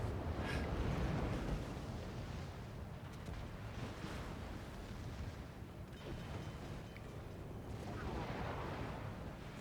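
Naval battle video game with torpedo explosions: a sustained roar of rumbling blasts and booming impacts, dense and loud throughout with swells near the start and end, no speech.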